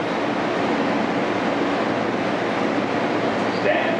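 A New York City subway F train, an R160 car bound for Coney Island, hums and rumbles steadily from inside while riding along the track.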